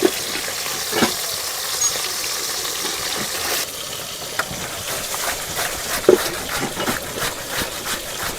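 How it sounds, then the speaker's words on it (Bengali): Bata fish frying in a pan, a continuous close sizzle and spatter with occasional sharp pops and a scrape as pieces are turned, no talking. "এদিকে মাছটাও ভাজা হচ্ছে,"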